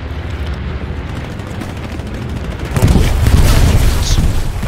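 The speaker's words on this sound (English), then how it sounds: "Bombing run as soon as I spawn." Bombing-run explosions in the Brothers in Arms video game: a low, continuous rumble swells into a louder, dense burst of blasts about two-thirds of the way through, with no voices.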